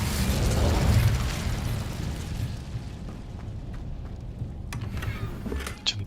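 Roaring burst of an Incendio fire spell in Hogwarts Legacy, a loud whooshing blast that fades into crackling flame and small pops.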